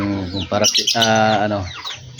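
A pet African lovebird, kept alone with backyard chickens and pigeons, gives a loud, close, drawn-out harmonic call with a brief break in the middle.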